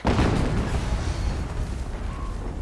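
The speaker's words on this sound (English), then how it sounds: "Another explosion." A deep, rumbling explosion in the video game Horizon Zero Dawn Remastered booms loudly at the start, then decays into a sustained low roar and crackle with no voices.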